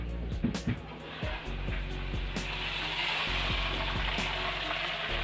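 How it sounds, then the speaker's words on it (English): A one-kilogram rolled lamb roast, just out of the oven after an hour and a half, sizzles and crackles steadily in its dish, close up, with a few louder knocks and a low background hum. "She's still sizzling."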